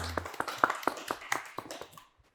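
A small group claps during a relaxed Korean interview with a rock band marking its 30th anniversary, a brief scattering of light, uneven claps that trail off after about two seconds.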